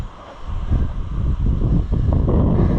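Strong wind buffets a microphone outdoors on a farm, a steady low roar with gusts that swell and rise over the few seconds, no voices.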